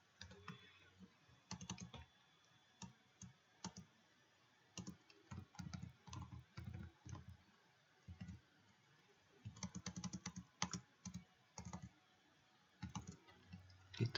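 Keys clacking on a computer keyboard as an IP address is typed into an Ubuntu Server setup, short bursts of close, crisp keystrokes separated by pauses, with no talking.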